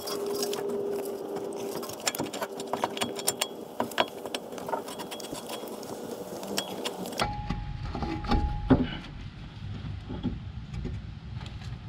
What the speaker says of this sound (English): now we should be able to more or less just kind of wiggle off the CV axle here.